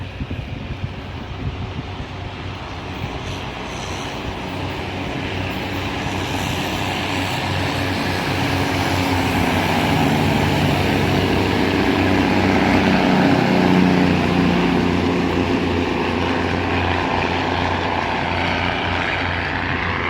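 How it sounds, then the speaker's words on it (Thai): A freight train in Thailand passes and switches tracks, a loud, steady, heavy rumble that swells toward the middle and carries on throughout. "นี่ก็รถไฟอีกขบวนหนึ่งมาแล้วนะคะ สลับรางกันค่ะ"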